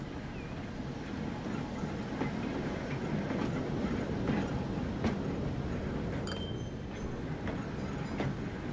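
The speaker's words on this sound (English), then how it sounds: "So the tram itself is not less noisy" A tram rolls along in the Transport Fever 2 city-building game, a steady low rumbling rail drone with faint rhythmic clicks, heard at moderate level without talk.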